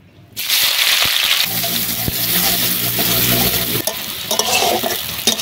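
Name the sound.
chopped onion frying in hot oil in a wok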